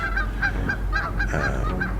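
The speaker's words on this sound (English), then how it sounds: "Canada geese chasing each other off." Canada geese chasing each other off in spring honk repeatedly in a quick, rhythmic series of loud, nasal calls, close by and overlapping at times.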